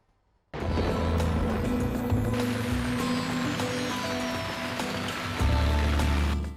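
Rain falls in a dense, loud, continuous patter after a brief quiet start, with a low rumbling undertone and no voices.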